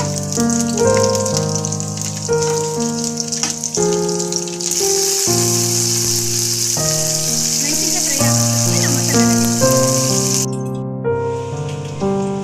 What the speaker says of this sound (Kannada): ಈಗ ಹಸಿಮೆಣಸಿನಕಾಯಿನ ಚೆನ್ನಾಗಿ ಫ್ರೈ ಮಾಡ್ಕೊಬೇಕು.